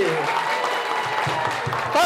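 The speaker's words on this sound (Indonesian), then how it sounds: "Oke, tepuk tangan yang meriah." A seminar audience claps in a dense, steady wash of applause lasting about two seconds, with a voice speaking over it.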